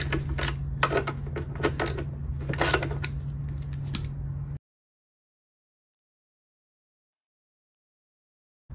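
Work on the 12 mm bolts of a third-generation Toyota Tacoma bumper comes through as close, rapid clicking and ratcheting for about four seconds before falling silent.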